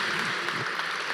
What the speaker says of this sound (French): Et bravo, sous vos applaudissements,